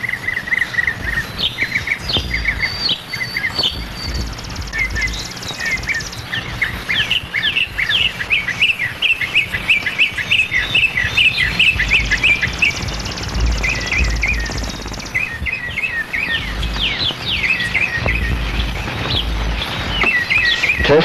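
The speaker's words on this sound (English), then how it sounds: "I hope you're getting all those bird sounds." Many birds sing and chirp together beneath trees, a dense overlapping chorus of tweets and trills running continuously near and far, with insect buzzing faintly underneath.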